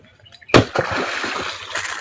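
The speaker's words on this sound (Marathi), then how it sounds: "तुम्ही बघू शकता की इथं दगड फेकणे चालू आहे." A stone thrown into water at an old dam in the jungle lands with one sharp splash after a quiet moment, followed by lingering splattering and gurgling, fairly close.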